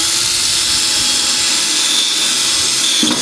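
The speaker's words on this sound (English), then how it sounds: "First, I'll drill those couple of holes" A steady, high-pitched whine of a 1/8-inch bit drilling into the metal of a 1965 Thunderbird Convertible, unbroken for a few seconds, close and loud, with no voices.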